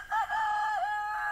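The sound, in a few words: chickens clucking and crowing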